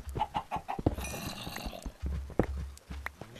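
Chickens cluck in the Minecraft Hexxit modpack, a few soft clucks mixed with a brief crowing squawk and scattered game clicks and footsteps at moderate volume.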